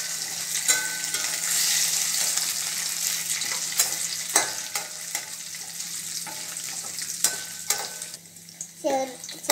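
Lentils frying in a pan for kuzhakkatta are stirred, giving a steady close sizzle broken by repeated scraping strokes and light clinks of a spoon against the pan, with no talking.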